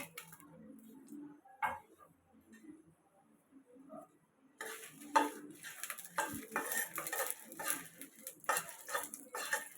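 Dried red chillies dropped into hot oil in a pan for mango pickle, stirred with a metal spoon; quiet clinks and scraping at first, then a louder sustained crackling sizzle with repeated utensil taps, with no talking.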